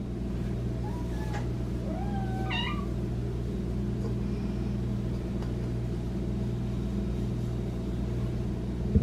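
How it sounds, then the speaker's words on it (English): Kittens meowing indoors at feeding time, a few short high mews near the start over a constant low appliance-like hum, then quieter faint cries as the hum continues. "This is my everyday life with the kittens, just getting them their food and water."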